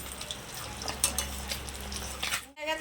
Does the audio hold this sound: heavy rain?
no